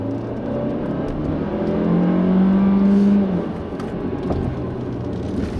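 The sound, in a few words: 2016 Kia Optima turbo sedan accelerating, dual-clutch transmission shifting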